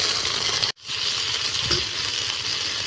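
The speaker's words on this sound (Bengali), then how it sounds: "রসুনটা ভাজা ভাজা হয়ে গেছে" Ginger and garlic paste fries in a hot pan for a cauliflower and potato dish, giving a steady, loud sizzle that breaks off for a moment and then resumes, with faint stirring scrapes.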